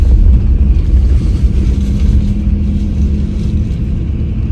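Loud, continuous engine drone of a Semeru Trans sleeper bus on the Jogja–Jakarta route as it turns around at Denggung, a steady low rumble heard from inside with no talk.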